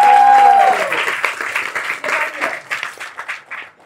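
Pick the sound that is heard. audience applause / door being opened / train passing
audience applause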